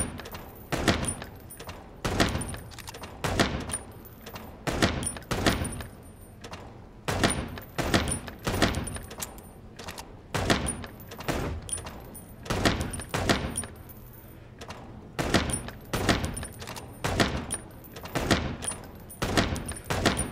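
Gunfire in the detective game Chicken Police: repeated sharp cracking shots in irregular bursts across the whole stretch, loud and close, with short pauses between volleys and no talking.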